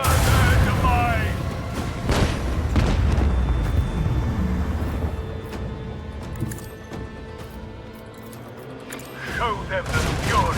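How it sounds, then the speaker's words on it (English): Heavy booming cannon fire from a starship's macro cannon in the video game Warhammer 40k: Rogue Trader, loud bursts at the start and end with rumbling decay between. "Show them the fury of our macro cannon."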